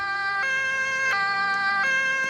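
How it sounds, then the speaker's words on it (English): An ambulance siren with a steady, tonal wail holds throughout, moderately loud with faint clicks and background noise, heard at night during a livestream; no speech over it. "There goes an ambulance"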